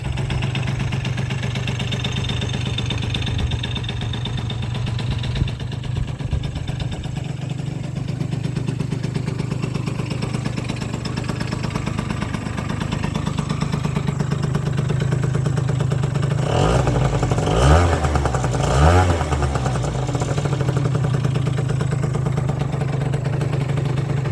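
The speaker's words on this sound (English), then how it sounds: "let's get an idea of how the engine sounds with all the modifications already installed" A modified Yamaha Zuma 50cc scooter engine with a performance variator runs steadily at idle with a constant low drone, then briefly revs with a few quick throttle blips near the end.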